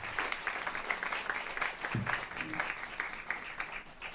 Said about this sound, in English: Round of applause for Sofia.